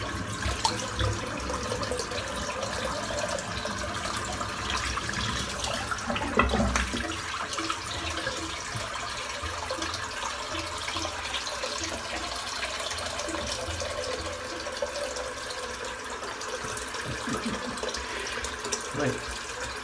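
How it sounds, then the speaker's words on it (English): Used shaving water from a head shave is tipped out into a sink, a steady running, splashing pour that carries on through the stretch, with faint background noise. "I'm going to empty this water out."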